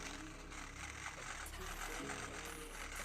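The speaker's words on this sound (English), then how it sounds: "it's going back and forth on its own" A Klixer dreadlock machine working through hair makes a quiet, rapid mechanical buzz and clatter that stays close and faint and runs steadily the whole time.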